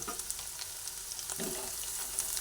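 A puffed rice chop mixture fries in a pan with a soft, steady sizzle, faint and close, with light stirring scrapes and no talk.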